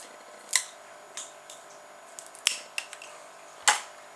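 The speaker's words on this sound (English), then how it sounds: "And then we're going to cut the straws back to leave about 2 centimetres sticking out beyond the wood." Scissors snip plastic straws trimmed near wood on a homemade jet racer chassis, giving a few crisp, separate clicks with quiet gaps between them, close and alone.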